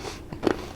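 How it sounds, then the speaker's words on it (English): Crunchy dehydrated kiwi trail mix bitten once with a sharp crack, followed by a brief close chewing crunch, heard alone and near. "sorry for chewing on you."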